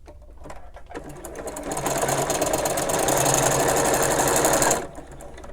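A sewing machine stitches a drawstring bag, starting with a few slow stitches and then running in a fast, loud, steady mechanical whir for several seconds before stopping abruptly.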